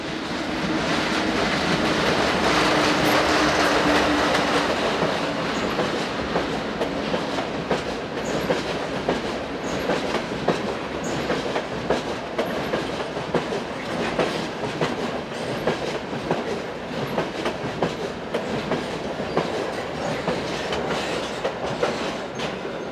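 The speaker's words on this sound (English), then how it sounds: "there were around 12 freight trains seen each hour, including a number of internal Swiss postal services, such as seen here behind locomotive number 11333" A Swiss freight train carrying postal traffic, hauled by locomotive 11333, rolls past steadily and loudly, with dense rhythmic clickety-clack of wheels over rail joints and a broad rushing roar that holds for the whole stretch.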